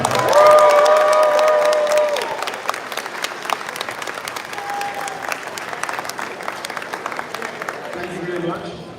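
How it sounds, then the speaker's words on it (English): An audience at a comic convention art auction bursts into loud, sustained applause and cheering to welcome Shelton Drum, with clapping that fades slightly but continues throughout, mixed with crowd voices. "give a big hand for Shelton Drum"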